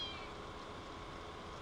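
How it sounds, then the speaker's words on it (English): A cat meows continuously, a drawn-out, faint cry close by against a steady background hiss, with no talking. "Hey, stop meowing."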